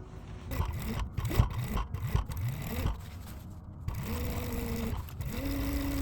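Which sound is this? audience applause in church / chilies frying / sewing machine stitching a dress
sewing machine stitching a dress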